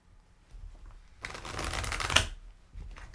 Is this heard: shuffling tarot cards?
yes